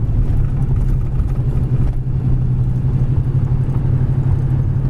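A 1939 Chevy street rod cruises at about 25 mph, giving a steady, loud low engine and road rumble that holds unbroken from start to finish with no voices.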